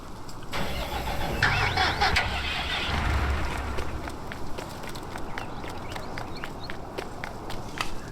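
A truck engine starts in the Farming Simulator game, cranking and catching before settling into a steady mid-pitched idle, with light clicking and footstep-like game sounds over it.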